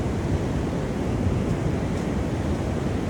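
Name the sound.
waves on a beach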